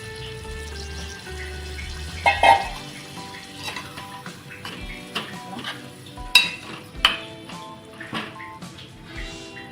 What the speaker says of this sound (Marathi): त्याच्यामध्ये थोडंसं पाणी टाकणार आहे मी